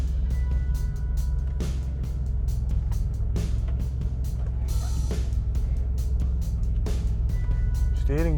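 A Saab 900 SE backs up in reverse, its engine giving a steady, low, continuous hum throughout, with a person talking over it.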